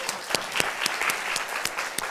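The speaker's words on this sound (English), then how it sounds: "The first one to get applause" Theater audience applauding at a live event, dense and steady clapping with a few sharper individual claps standing out, heard at moderate distance.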